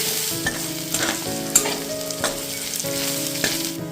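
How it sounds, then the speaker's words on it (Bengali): Crushed garlic cloves sizzling in hot oil in a pan while making a masoor dal dish, a continuous frying hiss with a few sharp spatula scrapes and clicks, close up with no voices. "এবারে এর মধ্যে আমি ছ থেকে সাতটা রসুন থেতো করে রেখেছিলাম ওটা দিয়ে দিলাম এটার মধ্যে"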